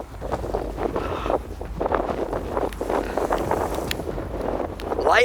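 Strong wind roars and buffets steadily across the microphone near a lighthouse at Spain's northernmost point, a loud continuous rumble with gusting swells.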